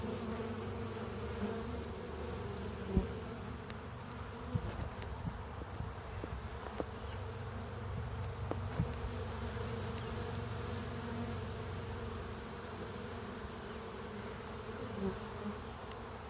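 Close, steady buzzing of many honeybees around a hive during a fall oxalic acid treatment, a continuous low drone with a few brief taps and knocks.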